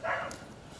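A dog at a basic canine induction course gives one short, faint bark at the start, followed by quiet background noise.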